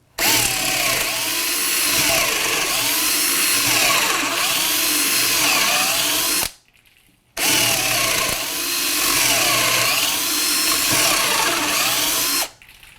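A Milwaukee M12 cordless drill bores holes beside earlier ones, two sustained whining bursts of roughly six seconds each separated by a brief pause, loud and close with no talk.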